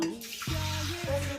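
Water pours into a kadhai set on a lit gas stove for boiling, a short close splash that turns into a hissing, bubbling sizzle as it hits the hot pan.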